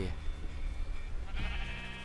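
Sheep bleating in Minecraft 1.16.1 survival mode: one wavering bleat with a short second call near the end, clear and close over quiet game background, no voices.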